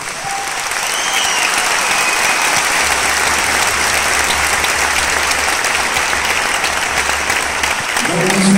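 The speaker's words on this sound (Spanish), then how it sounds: "un aplauso por favor para el señor Juan Camilo Arboleda" Orchestral concert audience giving sustained applause for an honored arranger, a loud, dense, even roar of clapping that holds steady throughout with some crowd noise mixed in.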